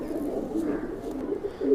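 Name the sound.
Kalsare pigeons cooing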